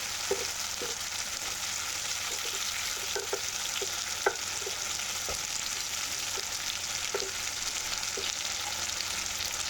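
Tomato fries with fish curry in a pan, producing a constant hissing sizzle with faint scattered spatters and light stirring ticks throughout.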